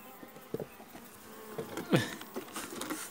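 Honeybees at a weak colony's hive during beekeeping work, a faint buzzing hum with scattered close wingbeat passes and light tapping or handling sounds, with no talk.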